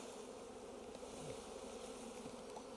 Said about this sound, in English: you see the bees flying away, that's okay